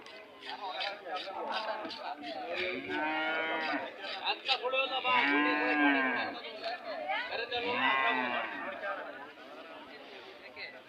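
A Jersey cow moos several times, long drawn-out lows, among other cattle at a busy livestock market in Gandasi, with crowd chatter running throughout.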